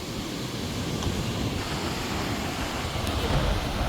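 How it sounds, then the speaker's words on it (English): Strong wind roars steadily and loud across the microphone outdoors in the Philippines, a continuous broadband rush with no pauses and no voices. "The wind is strong."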